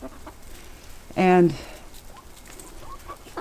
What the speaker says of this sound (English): Got a couple roosters right there.